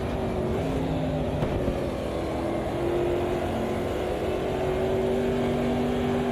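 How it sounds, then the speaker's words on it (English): Racing car engines in Automobilista 2 at Monza hum continuously, a steady mid-pitched drone with faint other cars whining in the distance, no talk over it. "hearing the engine sounds from the other side of the track"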